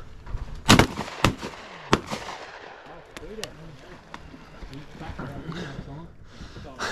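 Shotgun blasts ring out during a duck hunt, several sharp reports in quick succession at close range, followed by hunters talking over a boat or outdoor background.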